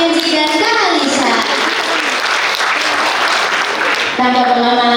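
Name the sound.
audience applause for the talk show speakers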